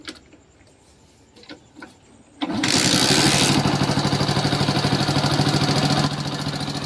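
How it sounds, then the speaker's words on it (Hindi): A Hero Honda motorcycle with a newly replaced kick shaft is kicked over after a few quiet clicks and knocks, fires up abruptly and settles into a loud, steady, rapidly ticking idle recorded close by. "मैं बाइक को स्टार्ट करके आपको दिखाता हूँ।"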